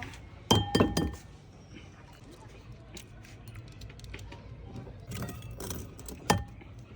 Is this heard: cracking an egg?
yes